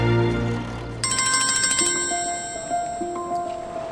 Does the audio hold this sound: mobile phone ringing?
yes